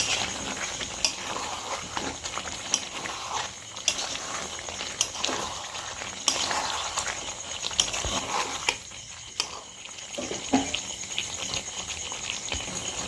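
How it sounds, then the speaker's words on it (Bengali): Onion and tomato are stirred gently into chicken do pyaza in a pan, with a steady oily sizzle under repeated soft scrapes and knocks of the spoon, close and moderately loud. "আস্তে আস্তে মিশিয়ে নেব যাতে টমেটোটা ঘেঁটে না যায়।"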